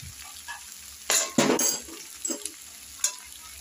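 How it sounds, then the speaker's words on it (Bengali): Fried vegetables and fried lentil dumplings are stirred in a pan, giving a quiet sizzle broken by a few louder scraping bursts of the spoon against the pan, each lasting a second or less. "বড়িগুলো দিয়ে আমি আবার একটু নাড়াচাড়া করে নিলাম"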